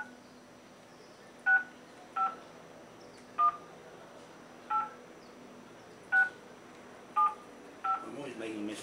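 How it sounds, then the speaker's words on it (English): Telephone keypad dialing tones, seven separate short beeps at uneven intervals, clear against a quiet room, with a faint rustle at the end. "I'm always making a mistake with dialing numbers."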